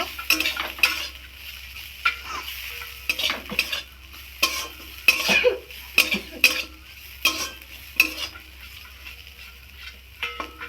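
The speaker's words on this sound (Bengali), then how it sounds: "এবার আমি চাপাটা খুলব ভালো করে নেড়ে নেব" Potato being stirred in a pan after the lid is lifted: repeated scraping and clinking of a utensil against the pan in irregular strokes over a low background sizzle, close up and without speech.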